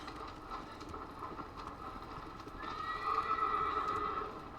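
Horse neighing and galloping in the video game Shadow of the Colossus, with a whinny rising over steady hoof-driven rumble and background game noise in the second half.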